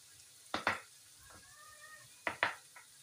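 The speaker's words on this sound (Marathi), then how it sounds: "हे छान हलवून घ्यायचं मस्त." Spices stirred in a frying pan for an eggs and palak dish: two pairs of quick scraping strokes over a faint sizzle, with a brief soft ringing between them.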